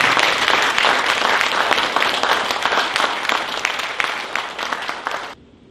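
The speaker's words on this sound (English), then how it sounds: "Let's give one applause" An audience at Wongu's 7th commencement ceremony in 2024 applauds with dense, sustained clapping for about five seconds before it cuts off abruptly into quiet.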